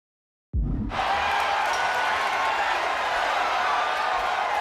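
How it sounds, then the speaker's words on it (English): After a brief silence, a capacity arena crowd in the wrestling video game WWE 2K26 erupts into a sustained, roaring cheer that holds steady, loud and unbroken throughout. "And listen to this capacity crowd."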